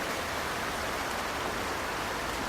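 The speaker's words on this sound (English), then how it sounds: "Listening to the rain, she thought of the trees she shares this hillside with." Steady rainfall on a hillside, a dense, even hiss of drops with no distinct patter or breaks, constant and moderately loud throughout with no voices.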